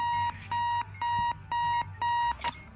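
A video game alarm clock from Keep Talking and Nobody Explodes blares five loud, evenly spaced electronic ringing bursts close up, followed by a short sharp click at the end.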